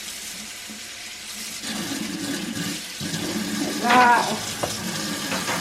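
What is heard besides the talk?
water from a tap rinsing a vacuum filter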